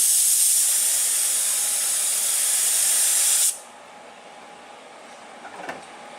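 Activator sprayed in a steady close hiss over a hydrographics film floating in a 90-degree dip tank, running for about three and a half seconds before cutting off abruptly into quiet room tone.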